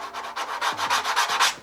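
A 3D-printed armor chest plate is hand-sanded in quick repeated rasping back-and-forth strokes, close up and fairly loud, with no talking.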